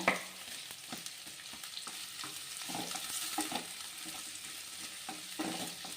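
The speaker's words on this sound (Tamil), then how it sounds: "அஞ்சு வெள்ளைப்பூடு போட்டிருக்கேன் இப்போ நல்லா வதக்கிக்கணும் வெங்காயம் நல்லா பொன்னரமாக வதக்கிக்கோங்க" Large onions and five garlic cloves sautéing in a pan for Chettinad fish curry, a soft, fairly faint sizzle with light stirring scrapes throughout and no talk.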